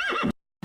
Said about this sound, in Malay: Itu kuda.